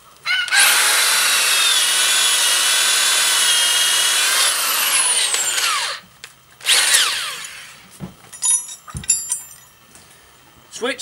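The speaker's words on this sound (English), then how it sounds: "Now we just go in and we drill" A power drill bores halfway into a wooden gate post on a farm, a loud close whine for about five seconds, then a short second burst followed by scattered knocks and clatter.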